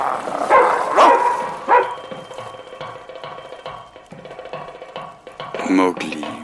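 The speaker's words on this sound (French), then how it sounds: "Des chiens, toujours des chiens près des villages." Dogs bark near a village in a jungle story setting, several sharp barks and yips scattered across the clip amid other voices and background sounds, with a louder burst near the end.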